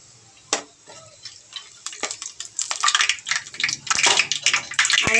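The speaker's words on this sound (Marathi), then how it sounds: "तेल छान गरम झालं आहे. आपण आता त्याच्यामध्ये खडे मसाले घालूयात." Whole spices tossed into hot oil for a vegetable pulav, sharp crackling pops at first that build into a dense, loud sizzling spatter close up.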